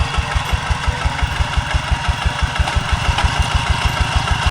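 A tractor engine thumps with a rapid, even putter, close and loud, working steadily while ploughing a rice field, with a constant mechanical rattle on top.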